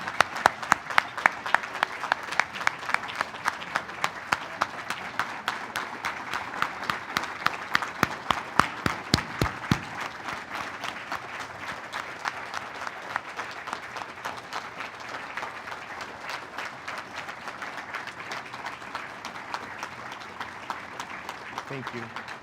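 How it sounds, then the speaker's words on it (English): A large audience at an alumni awards ceremony gives sustained, even applause for the award winners, with dense clapping continuing unbroken for over twenty seconds. "give a tremendous round of applause for all of our award winners"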